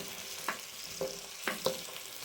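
Carrots tipped into a pan of onions already frying for a carrot cream soup, giving a steady sizzle with a few soft stirring scrapes and clacks, close and unaccompanied by talk.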